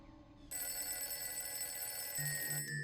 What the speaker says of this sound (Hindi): मुझे लैंडलाइन पे फोन आ रहा है।